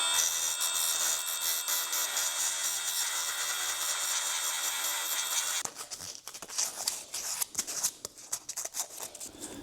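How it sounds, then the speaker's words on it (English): A carbide burr grinds cast material on an Acerbis X-Factory hand guard for a Kawasaki KX450X, a steady loud whirring rasp for about six seconds, then broken into shorter intermittent bursts of grinding. "So I'm just going to use my carbide burr."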